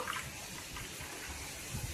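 Pani puri water is strained at home, giving a faint, steady trickle and splash of liquid pouring through with no talking.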